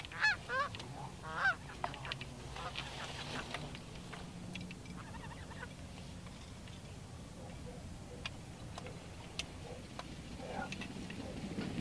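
A flock of geese flies in toward a fall hunting spread, honking repeatedly, loud and close at first and then thinning into scattered calls over a ticking background.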